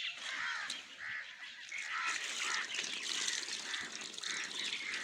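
Water poured into a pipe at a tubewell in a field, a faint gurgling splash that pulses in repeated glugging surges, heard quietly at a distance.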